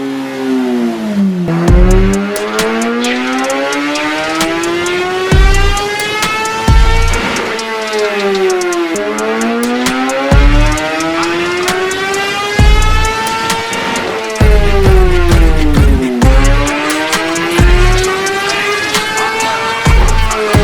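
A 2019 Kawasaki ZX-10R on a dyno revs through repeated warm-up pulls, each one a loud rising high-pitched engine whine that climbs and drops back, with sharp blips between the runs.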